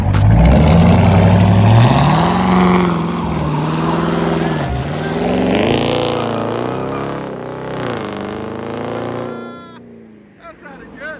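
Loud, close V8 rumble from a 2011 Dodge Charger R/T with the 5.7L Hemi and true dual straight pipes with an X-pipe, idling steady and fairly loud with slight pitch swells, heard from inside the car before fading near the end.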